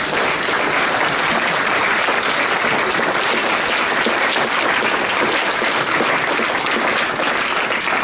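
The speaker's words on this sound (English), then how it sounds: "Let's give them a big round of applause." Big, steady round of applause from a club luncheon audience welcoming new Rotary members, dense and even clapping filling the whole stretch without pause.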